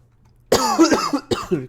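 A single burst of harsh coughing from a nearby person, two or three rough hacks in quick succession after a brief silence.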